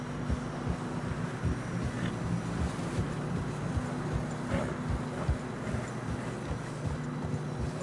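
Horse hooves walking through fresh snow in the video game Red Dead Redemption 2, a steady rhythmic clip-clop of several footfalls under a low wind-like ambient bed, moderately close and even throughout.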